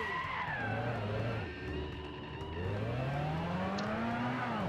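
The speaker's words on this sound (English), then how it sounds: "he's a deserved winner now, making his donuts, celebrating on the front straight" A race car does celebratory donuts after winning the Indy 500 in an online sim racing league, engine wailing and sweeping in pitch while the tires skid and squeal continuously.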